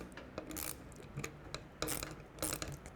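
Short metallic rasps and clicks come from a ratchet working a 10mm socket on a tail light bolt of a Triumph Speedmaster motorcycle, several brief bursts of ratcheting heard close up and fairly quiet.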